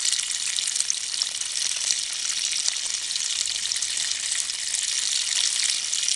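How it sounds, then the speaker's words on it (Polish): Water pouring steadily from a natural spring in the Île-de-France countryside, a continuous hissing splash that stays close and even throughout with no voices over it. "Widzicie, jak leci woda?"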